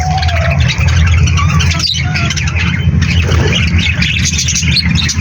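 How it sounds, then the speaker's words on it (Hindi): Harsh parrot squawks and chirps rise from a dense, noisy background with a steady low rumble, the calls overlapping continuously as the parrots fly. "ये है तोते"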